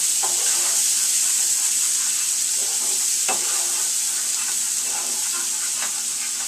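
Onions and garlic sautéing in a pan give off a steady close sizzle and hiss, with a few soft stirring clicks scattered through it and nothing else over the top.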